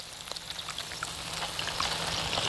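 Pancake-style batter dropped into hot frying oil gives a steady, close crackling sizzle with scattered pops that builds slightly over the short stretch.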